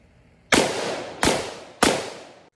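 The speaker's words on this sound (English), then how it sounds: "Next is the 16-inch barreled AR-15." Three loud, sharp unsuppressed rifle shots from a 16-inch barrel AR-15 in 5.56mm, evenly spaced about two-thirds of a second apart, each a sharp crack followed by a brief decaying tail, heard close with no talking.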